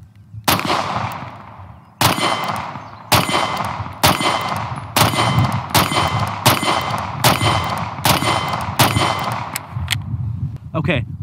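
Smith & Wesson M&P 2.0 Compact pistol fired outdoors, about ten loud, sharp shots at an even pace roughly one per second, each with a ringing tail.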